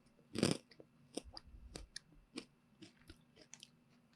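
Close, crunchy chewing of Dream Pops Vanilla Sky Crunch, a light fluffy candy coated in dark chocolate, with a loud first bite followed by irregular smaller crunches and mouth sounds, no talking.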